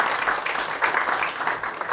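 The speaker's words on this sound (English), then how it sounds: "Give them a round of applause." Lecture audience applauding in a hall, a steady wash of many hands clapping at moderate distance for two seconds, with no voices on top.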